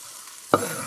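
Bacon dropped into melted butter in a fry pan over medium heat bursts into a sudden loud sizzle after a moment of quiet, continuing as a bright, steady frying hiss.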